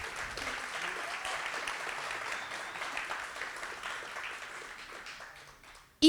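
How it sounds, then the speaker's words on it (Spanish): Audience applause at a book launch in a literary café, steady dense clapping from a crowd that holds for about six seconds before fading, with a brief louder burst at the very end. "Un aplauso para ella también."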